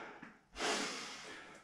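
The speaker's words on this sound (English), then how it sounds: "Try and concentrate on that breathing." A person recovering during a full-body rucksack workout takes a sharp snorting inhale, then releases a long, heavy, close breath that fades slowly, with a smaller puff just before.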